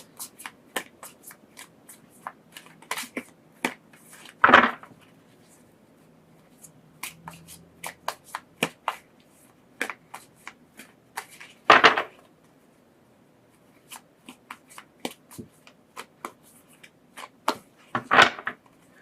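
A Vice Versa tarot deck is shuffled by hand, giving quick close riffles and dry card flicks in bursts, with three louder shuffles spaced through an otherwise quiet stretch and no talking.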